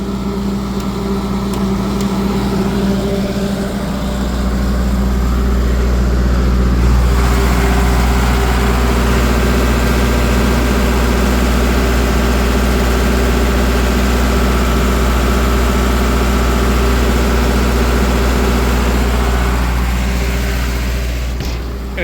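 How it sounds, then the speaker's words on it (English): A standby generator engine running loud and steady close by, its tone shifting slightly a few seconds in as a manual load of about 90 amps is switched on, then holding a constant heavy drone. "this particular generator comes with a manual load, and I'm going to kick in a load that'll put about 90 amps worth of load on"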